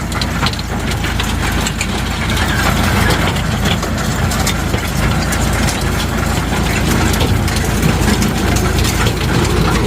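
A tractor-pulled stone picking machine works a field, its heavy engine droning continuously under a dense clatter and rattle of stones and mechanism, loud and steady throughout with no talk.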